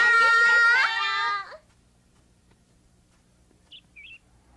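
Cartoon birds in a forest give a bright, warbling call that opens loudly and fades, followed by quiet and then two faint short chirps near the end.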